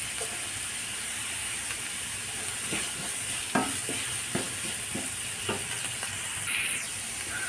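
Curry leaves crackle and sizzle in a hot pan of oil with green chillies, a constant hiss broken by several small pops and a few stirring clicks, with no voices.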